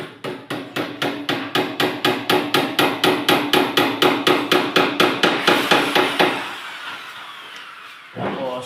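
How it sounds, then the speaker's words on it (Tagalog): A hammer drives nails during a granite installation, a rapid, steady series of about two dozen sharp, loud metallic blows close by, then a pause before one last knock. "Lagyan natin ng pako ulit."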